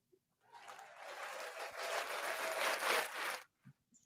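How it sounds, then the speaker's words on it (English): A short burst of audience crowd noise as a sound effect: steady applause and cheering swelling for about three seconds, then cutting off cleanly into near silence. "I love the audience crowd noise"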